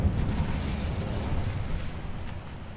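The Incendio fire spell in a Harry Potter video game roars with a dense, low rumbling blast of fire that holds steady and slowly fades across the clip, with no voices.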